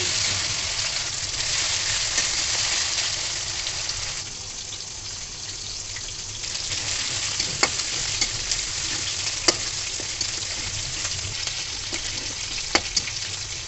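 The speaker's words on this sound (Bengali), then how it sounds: "দিয়ে দিলাম পেঁয়াজ কুচি এখন পেঁয়াজগুলো একটু ভেজে নিব এখন দিয়ে দেবো রসুন বাটা তো এখন ভালো করে ভেজে নিব মশলাটা" Chopped onion and garlic paste fry in oil in a pan, a steady dense sizzle filling the whole stretch, with a brief dip midway and occasional sharp scrapes of a spatula stirring, close and loud.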